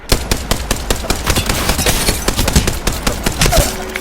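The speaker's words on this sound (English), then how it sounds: "it's pretty slow fire rate if you can't hit your shots, but it's heavy hitting." Heavy-hitting, slow-firing gun in the Apex Legends video game, loud repeated shots close up over a dense backdrop of surrounding battle gunfire.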